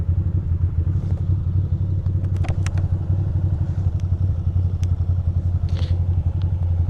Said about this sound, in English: I'm trying to listen to my bike